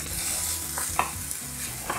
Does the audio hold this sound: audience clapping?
no